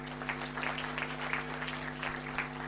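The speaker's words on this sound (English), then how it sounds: "Applaudissez pour cette activité." An audience at a Liyeplimal presentation claps faintly in quick pulses, heard over a steady low electrical hum.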